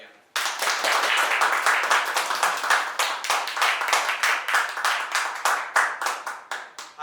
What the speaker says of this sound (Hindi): सबसे पहले तो यहाँ पे इकट्ठा होने के लिए और मुझे हिम्मत देने के लिए एक बार जोरदार तालियां